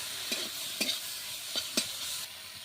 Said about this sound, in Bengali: নাড়াচাড়া দিয়ে দিচ্ছি এখন আমি, আর হালকা ভেজে নিয়েছি চিংড়ি মাছগুলো